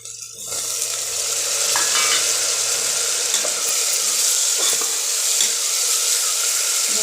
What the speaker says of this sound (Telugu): టమాటా వేసేస్తామండి కట్ చేసి పెట్టిన టమాటా